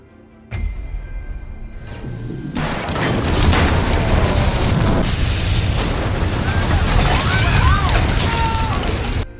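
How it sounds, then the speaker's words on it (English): A loud, sustained explosion-like rumble with crackling debris and booming bursts, rolling on for several seconds after a sudden onset. "Art kills Biggie in an explosion."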